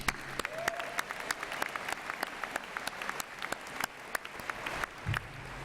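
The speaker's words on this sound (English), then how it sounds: "Give yourself a round of applause." Applause from a graduation audience at a 2019 high school ceremony. Scattered claps sound fairly distant and steady for several seconds.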